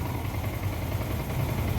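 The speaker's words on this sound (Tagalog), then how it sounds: "Di ba umaandar yung motor?" A Yamaha Sniper motorcycle engine idles steadily close by, a low continuous rumble holding even throughout with no voices.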